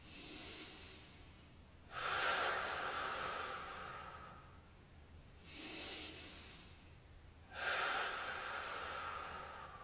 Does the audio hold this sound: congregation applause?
no